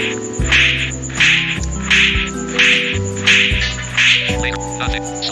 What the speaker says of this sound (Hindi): यहाँ थप्पड़ किसी को मारते हैं अधिकतर ऐसी आवाज आती है